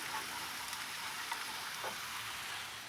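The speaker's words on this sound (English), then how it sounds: "We're making a really thick roux." Butter and flour cook into a thick roux in a pan, a soft, steady sizzle and frying hiss with faint stirring, heard alone and fairly quiet.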